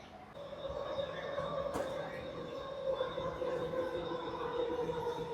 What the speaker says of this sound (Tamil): நாம் போக வேண்டிய ட்ரெயின் இதுதான்.